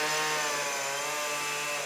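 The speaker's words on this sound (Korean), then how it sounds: "전기톱으로 그림을 그리듯 곡선을 새긴다" A chainsaw runs at a steady, loud, continuous whine while carving curves into a wooden log during winter woodworking in Yecheon, Gyeongbuk, without pauses or voices.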